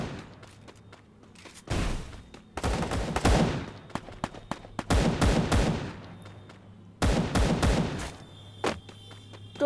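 Gunfire in the Free Fire video game comes in several loud bursts of rapid automatic shots, with short quiet gaps between them and a few scattered single shots.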